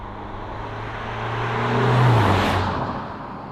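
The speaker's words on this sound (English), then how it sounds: "you start up this engine and think am I driving a diesel? So sound-wise, really not that convincing" A 2023 facelifted Alfa Romeo Giulia engine drones steadily from inside the car while driving, its low hum swelling toward the middle and then easing off, with no voices over it.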